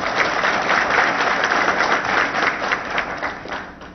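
Sustained applause from an audience at a speech by CM KCR on farmers at Telangana Bhavan: dense, even clapping at full volume for about four seconds, tapering slightly near the end.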